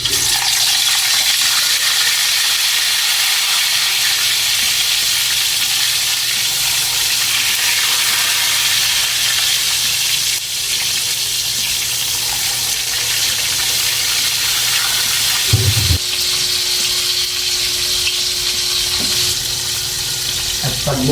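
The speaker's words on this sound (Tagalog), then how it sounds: "Balik po, pirituin na po natin yung isda." Fish frying in very hot oil for escabeche, a loud, constant close sizzle and crackle that fills the whole stretch, with a brief clatter near the end.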